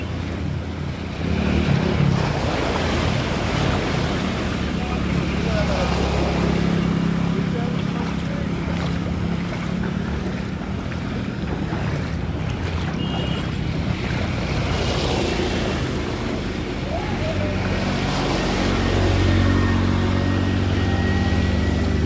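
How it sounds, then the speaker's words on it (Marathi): An auto rickshaw drives through a rain-flooded road between Devgad and Jamsande, sending water splashing up and sloshing around it. The rushing surge is loud and continuous beneath a steady engine hum and rain noise, with someone talking over it. "त्या बघा रिक्षाचा बघा पाणी बघा किती उडतं बघा"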